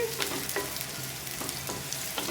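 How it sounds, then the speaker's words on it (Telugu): Onions frying in oil and being stirred, a steady close sizzle with repeated short scrapes and clicks from the spoon. "ఇలా వేసుకొని తిప్పుకుంటూ ఫ్రై చేసుకోవాలి ఉల్లిపాయ చక్కగా నూనెలో వేగిపోవాలండి"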